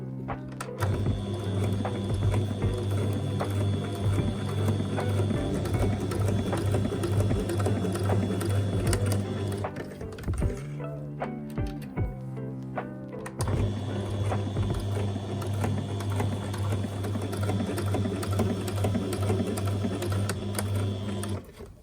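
A sewing machine runs in a fast, loud, continuous whir while stitching a two-fold hem on a cafe apron, pausing briefly midway before resuming.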